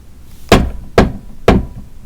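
Three loud, evenly spaced knocks on a door, close by and sharp, each ringing briefly before the next.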